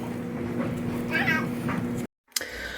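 A cat meows a few times close by over a low steady hum and some background voices, then the sound cuts out abruptly.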